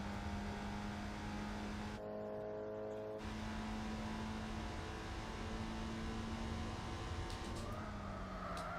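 Simulated Daihatsu Copen engine in Gran Turismo 4, a steady mid-pitched drone that holds throughout with a brief drop in the middle, no talking.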